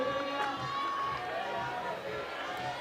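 Spectators cheering and shouting for a climber at an IFSC lead climbing World Cup semi-final in Chamonix, a steady roar of crowd noise with commentary talk over it.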